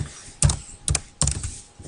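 A few distinct, close keystrokes on a computer keyboard spell out a short word, arriving in three or four crisp clusters against a quiet room.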